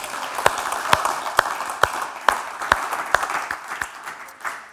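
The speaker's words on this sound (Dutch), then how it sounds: "Applaus graag." Audience at a national municipal association general members' meeting claps steadily for several seconds, a dense patter of hands with a few sharper claps standing out, moderately loud and thinning toward the end.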